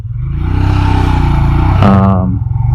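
A Royal Enfield Himalayan motorcycle engine runs loud and close with a steady low throbbing drone, briefly rising in a rev near the end before settling back.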